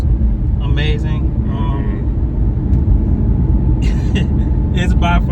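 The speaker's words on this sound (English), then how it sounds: "The rumble of the V8 as you take the RPMs up a little bit" Aston Martin V8 engine with a steady low rumble heard from inside the car while driving, continuous and fairly loud under someone talking.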